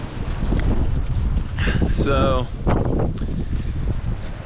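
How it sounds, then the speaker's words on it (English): A windstorm in the Ohio Valley roars in a dense, constant rush of gusting air over the microphone. Someone speaks briefly over it. "It's windy"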